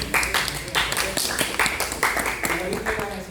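Short burst of classroom applause, students clapping irregularly at close range for a few seconds, mixed with voices talking over the claps.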